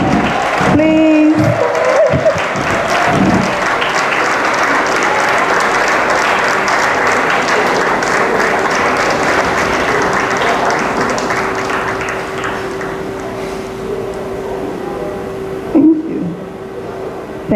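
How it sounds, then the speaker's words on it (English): Sustained applause and cheering from a large audience at a graduation ceremony honouring former president Ellen Johnson Sirleaf, loud and dense clapping lasting many seconds with crowd voices mixed in before it thins out. "Please, round of applause. Please, let's keep clapping."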